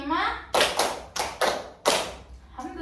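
Schoolchildren clapping in a counted classroom rhythm game, sharp group claps landing at steady intervals between a teacher's spoken count, with voices heard between the claps.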